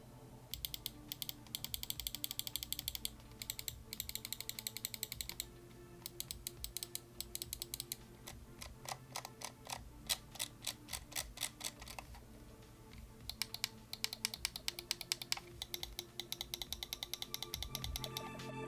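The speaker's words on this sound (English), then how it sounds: "Moving on to the buttons, here is a listen to the clicks." Mouse buttons on a roughly 84-gram mouse with a tight shell, clicked repeatedly in quick bursts and steady runs, crisp and close with short pauses between sequences, no talking.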